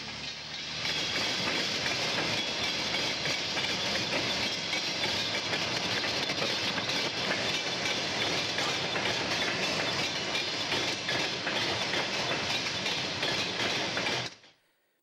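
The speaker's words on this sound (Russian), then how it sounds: "поезд с российской техникой заметили под Симферополем" A train hauling Russian military equipment, armoured personnel carriers, infantry fighting vehicles and radar units, rolls past near Simferopol with a loud, steady rumble and clatter of wagons that holds for about fourteen seconds and then cuts off abruptly.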